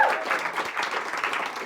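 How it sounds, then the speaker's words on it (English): Audience applause at a corporate event honoring new diamond-rank members in North America, a brief burst of dense crowd clapping that stays fairly steady throughout. "can we just give one more round of applause to our newest diamonds in North America?"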